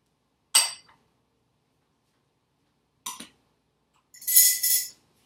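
Melted grass-fed butter being stirred into a cauliflower mixture in a bowl: three short, separate bursts of clinking and scraping utensil sounds with silence between, no talking.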